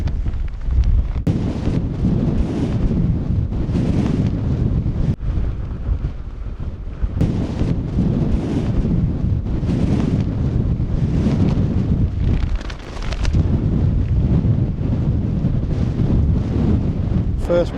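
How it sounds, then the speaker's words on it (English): Gale-force wind on an exposed Peak District ridge buffets the microphone in loud, continuous roaring gusts that barely let up. "it is blowing a gale now"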